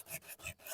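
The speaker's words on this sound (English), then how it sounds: "Let me grab some sandpaper. So what we'll do is I'll grind down this edge right in here, and it'll round it off." Sandpaper rasps back and forth across the edge of a fiberglass seat on a Ranger Z20 boat, four quick close strokes in a steady rhythm with no voices.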